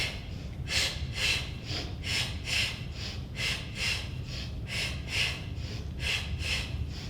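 Rhythmic breathing during a mat Pilates exercise, with repeated short, airy breaths, each lasting a fraction of a second, over a low room rumble. The breaths are near and moderately loud, with no talking.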